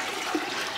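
A brief gurgling slurp of water is drawn through a homemade vacuum filter for maple syrup into a bottom pan, a soft, steady hiss with a faint bubble in the middle.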